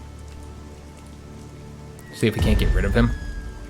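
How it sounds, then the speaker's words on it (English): Rain falls steadily in the WWII strategy game Strategic Mind: Blitzkrieg, a soft continuous patter heard throughout, with someone talking over it in the second half. "It is raining, guys."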